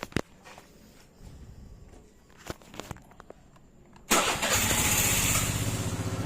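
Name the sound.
Suzuki Burgman automatic scooter engine starting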